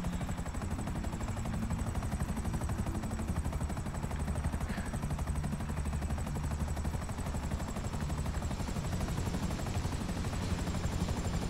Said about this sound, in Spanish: Vamos despacito, despacito para no estrellar el helicóptero.